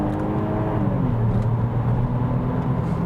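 Saab 9-3 Aero sedan accelerating hard in manual mode, a loud steady engine drone rising in pitch from inside the car with no talking.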